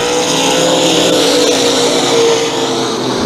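Modified race cars roaring around New Smyrna Speedway at full throttle, a loud continuous engine drone with shifting pitch as the pack passes, no talk.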